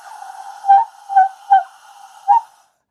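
A single sustained sung tone produced with an excessively opened throat, heard alone and fairly close, its tone dipping and swelling in four uneven pulses over a steady hum before cutting off.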